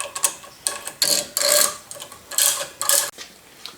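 Close bursts of ratcheting and rasping come from a wrench cranking 3/8 inch bolts to pull the motor rotor on a Yates American B244 machine, arriving in irregular clusters separated by brief pauses.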